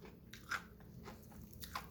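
Crunchy fried chicken, breast meat, bitten close to the mic in a quiet room, giving two or three crisp, crackling crunches in under two seconds.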